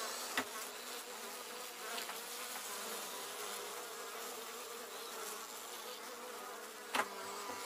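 A steady, dense hum of many bees buzzing close by, continuous throughout, with a couple of faint knocks.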